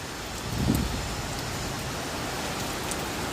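Steady, dense rain pours down on surfaces at high tide, heavy enough to look like falling snow. A constant close hiss with a slightly louder swell near the start, and no voices.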